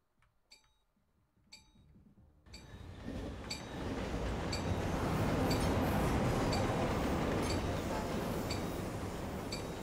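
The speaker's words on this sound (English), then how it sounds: "There's the train." A train passes by on a competitive video game map, its rumble swelling from quiet into a loud, sustained roar over several seconds, with faint metallic clinks and rattles on top.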